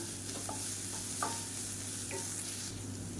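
Chopped onions sizzling in a pan after ginger garlic paste is added, a low steady frying hiss broken by a few light stirring scrapes, quiet and close with no voices.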